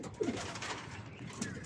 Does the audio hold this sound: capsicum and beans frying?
no